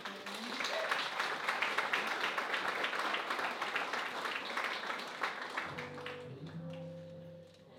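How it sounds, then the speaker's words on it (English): A crowd at a Gaelic music night gives a big round of applause as a man is invited up, dense clapping filling most of the stretch before fading as sustained instrument tones come in at the end. "Give Norman a big round of applause."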